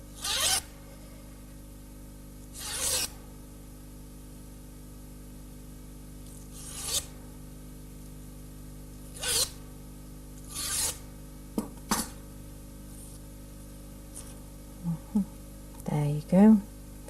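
Scissor blades drawn along wedding ribbon to curl it for a flower-arranged bonbonniere give a handful of short, close scraping swishes, spaced apart and quiet, with faint rustling between them.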